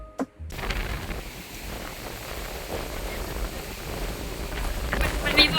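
Strong wind buffets the microphone outdoors while walking at a temple in Ang Thong province, Thailand, a steady low roaring rumble that runs through the whole stretch with a few louder gusts.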